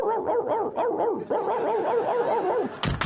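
A dog barks repeatedly in quick, rhythmic bursts, fairly close and clear, with a brief noisy clatter at the very end.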